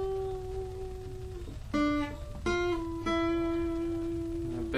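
A guitar plays part of the Yu-Gi-Oh! theme with string bends: a few sustained single notes that slide and bend in pitch, each new note struck louder than the last, ringing clearly over a soft noisy background.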